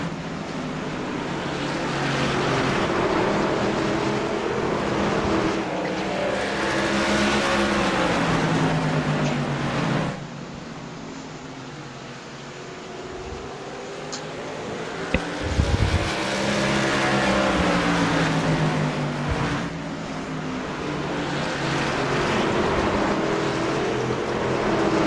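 Race trucks in a truck series race drive with revving engine tones that repeatedly climb and fall through gear changes, loud and continuous, with a brief thump partway through.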